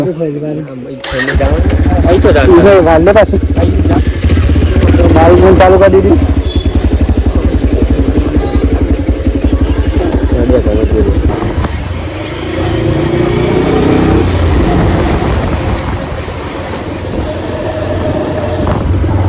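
A motorcycle engine fires up after a second and then runs loud and close as the bike is ridden, a continuous rumbling drone with people talking over it.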